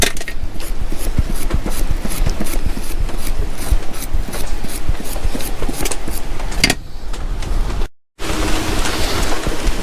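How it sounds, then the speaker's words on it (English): Scrubbing a carburetor with carburetor cleaner: a steady, loud, close rasping scrub that runs continuously, briefly pauses, cuts out for a moment, then resumes. "I'm going to use some carburetor cleaner. See how much of this we can scrub off."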